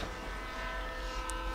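Derailed train in GTA 5 grinding to a halt on fire after C4 explosions, giving a steady low rumble with a sustained metallic hum throughout.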